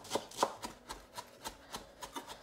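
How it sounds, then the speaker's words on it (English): Fresh coriander chopped with a knife on a board, about ten crisp, evenly paced taps, close and quiet, with no talking. "This chopping the coriander like this."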